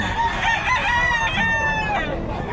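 A rooster crows close by, one long drawn-out cock-a-doodle-doo with rising and falling harmonics that fills nearly the whole stretch, with a faint clucking hen or two audible in the background.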